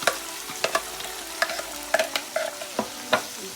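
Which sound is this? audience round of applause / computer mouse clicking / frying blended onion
frying blended onion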